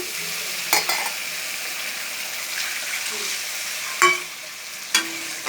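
Steady sizzling of spice paste frying in a pan for a fish curry, with a few sharp clinks of a utensil stirring at intervals.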